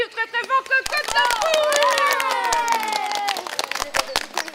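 An audience claps and cheers loudly for a hen called Cocotte, a dense burst of applause with whoops that starts after a moment of voices and holds strong before thinning out.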